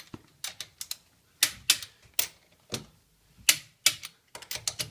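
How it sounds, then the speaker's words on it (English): Torque wrench clicking as car wheel nuts are tightened during a tire change: a close series of sharp, dry clicks in irregular clusters, with short pauses between them. "you're going to apply it to the nuts and you're going to hear a click"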